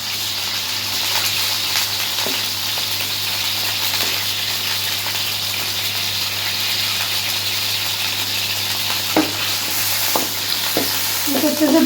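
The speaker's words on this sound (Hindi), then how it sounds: "तो थोड़ा सा घी गर्म हो जाएगा तो हम इसमें आलू डाल देंगे, आलू को फ्राई करेंगे।" Potatoes frying in hot ghee, a continuous bright sizzle that holds steady throughout, broken by a few sharp clicks and scrapes of stirring toward the end, with no talking.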